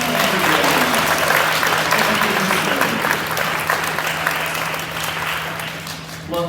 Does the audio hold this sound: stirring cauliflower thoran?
no